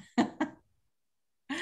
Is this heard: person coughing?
yes